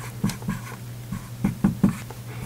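Marker or chalk strokes on a board during a lesson about barometric air pressure, several short scratchy strokes in an irregular rhythm, close and fairly quiet, with a steady low hum underneath.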